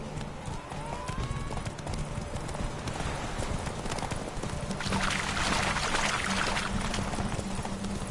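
In The Witcher 3, a horse's hooves clip-clop in a fast galloping rhythm across the ground, steady and close, with a brief whinny early on and game speech in the background.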